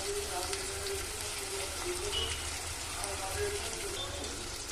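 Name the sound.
onions and green chillies frying in oil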